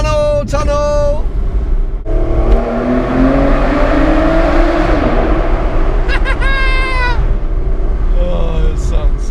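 A V12 car engine revs hard inside a tunnel, with rising and falling howls between brief bursts, echoing loudly around the enclosed space.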